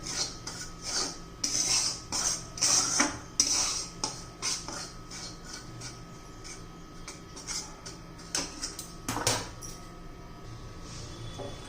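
Grated fresh coconut and semolina being roasted in a pan over a low flame, with a spoon scraping and clinking against the metal in steady repeated strokes, close and fairly loud, with no talking.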